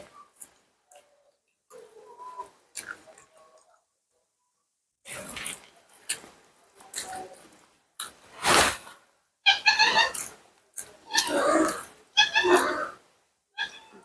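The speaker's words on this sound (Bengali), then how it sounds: "বিড়াল এসে কান্না করতেছে" A cat meows several times in short, whiny cries close by, after a mostly quiet start with a few faint sounds.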